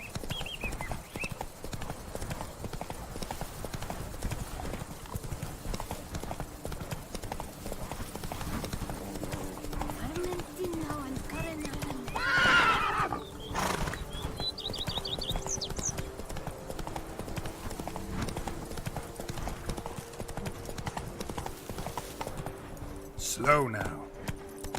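Galloping horse hooves in the Witcher 3 video game, a steady clip-clop running the whole time with a brief whinny near the middle, while someone talks over it.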